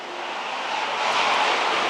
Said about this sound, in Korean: 시동 걸어봐도 되지